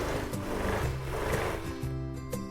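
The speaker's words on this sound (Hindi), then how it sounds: "सिलाई करते हुए जाना है नीचे तक" A sewing machine stitching the seam of a belt-style salwar runs steadily with a continuous whirring hum and rhythmic needle chatter, close up and alone.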